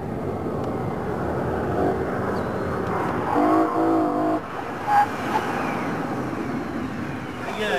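A BMW M3 on a final slalom competition run: steady engine drone with rising and falling revs as the car weaves through the course, held at a constant level throughout, with faint voices in the background.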